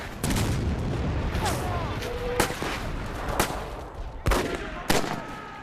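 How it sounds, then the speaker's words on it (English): Artillery and mortar shells explode around a WW2 battle position: a steady roar of battle noise broken by several sharp, close blasts spaced a second or so apart. "Artillery and mortars are exploding around us."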